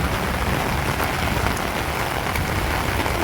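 Heavy rain pours on a farmstead in a loud, unbroken wash of noise, close and constant throughout with no voices.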